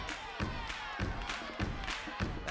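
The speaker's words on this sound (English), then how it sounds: "And let's clap together." A church congregation claps together in a steady rhythm, about one clap every half second, with a loud crowd wash and voices underneath.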